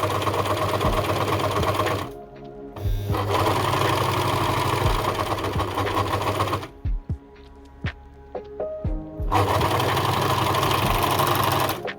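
An overlocker sewing machine stitches fabric for baby pants, running in loud sustained bursts with two short pauses and a few clicks of handling between runs.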